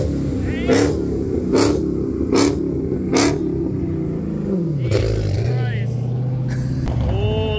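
A supercharged Mustang revs at a street gathering with several sharp, loud throttle blips, then a sustained engine drone that falls in pitch. Voices talk and shout over it.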